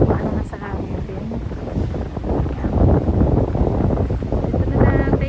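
Strong wind roars steadily across a microphone outdoors in cold weather at a scenic spot, a loud continuous buffeting rumble with gusty surges throughout.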